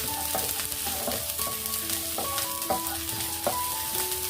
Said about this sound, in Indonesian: Lalu tambahkan udang ke dalamnya.